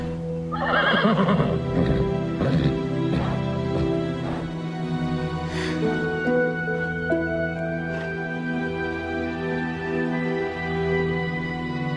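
A horse whinnies loudly near the start, its neigh rising and falling over a second or two, followed by a steady low hum and a few soft knocks in a stable setting.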